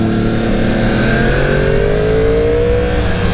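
A Yamaha R1 motorcycle engine revs up as the throttle is cranked, its loud buzzing whine rising steadily in pitch from close by, with no talk over it.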